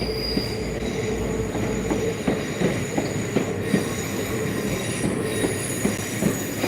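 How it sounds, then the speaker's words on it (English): Train 416 pulls out of Lanyon Place station in Belfast with a steady rumble, rhythmic clacks of the wheels and a faint squeal, heard from a moderate distance with no talk. "So here we have 416 departing for Grand Central."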